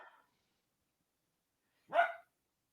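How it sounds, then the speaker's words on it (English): A single short bark from a puppy rings out, fairly near and clear, after a faint trace of sound at the start and a stretch of silence. "One of the other puppies has a chew, so they're barking at him."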